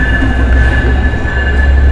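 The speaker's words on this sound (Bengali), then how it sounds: "অবশেষে কমলাপুর রেলওয়ে স্টেশনে চলে আসলো জাহানাবাদ এক্সপ্রেস" The Jahanabad Express rolls into Kamalapur railway station, a loud, close, continuous rumble of railcars with a steady high whine and faint wheel squeal, heard alone without voices.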